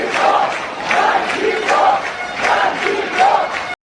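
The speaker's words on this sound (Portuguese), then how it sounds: "mais vaias." An airport crowd booing, loud drawn-out waves of jeering voices that swell and fade in several surges, close and raucous, ending abruptly.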